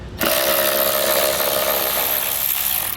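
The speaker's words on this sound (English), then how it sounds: "we'll be using our T27 Torx bit to get these 2 bolts out" A power driver with a T27 Torx bit spins out taillight bolts, a loud, continuous high-pitched whir starting abruptly and holding steady at close range.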